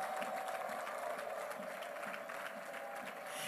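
A church congregation claps steadily and densely while shrill ululation rings out in a sustained, unbroken stream of celebratory crowd noise that holds at an even level throughout.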